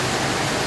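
Unseasonal heavy rain mixed with hail, a dense and steady hiss that stays even and close throughout the short stretch.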